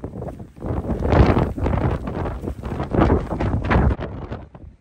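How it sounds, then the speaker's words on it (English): Strong gusting wind buffets the microphone on a hike in Alaska, a loud, rumbling roar that swells and dips in waves for several seconds. "it's super duper windy"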